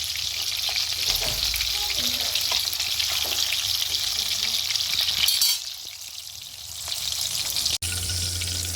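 Chicken seekh kababs fry loudly in a pan with a dense, continuous sizzle as they are turned, briefly quieting partway through before the hiss swells again, punctuated by one sharp tap.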